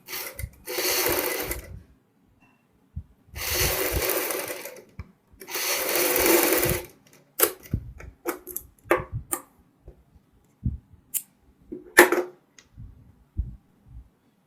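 A sewing machine stitches a step shoulder suit in three loud, close bursts of whirring about a second and a half each, followed by scattered clicks and fabric handling.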